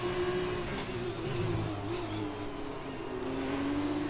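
Formula 1 race car engine in the F1 2020 racing game, revving up as it accelerates out of a slide, a steady loud whine that climbs in pitch, with no one talking.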